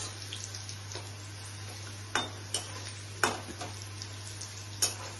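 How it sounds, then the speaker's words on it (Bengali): Pointed gourd (potol) frying in a pan for potol bhorta, a steady low sizzle with occasional sharp scrapes and clicks of a utensil stirring the slices, close and alone. "এইভাবে করে ডার্ক করে অল্প ফ্রাই করতে হবে"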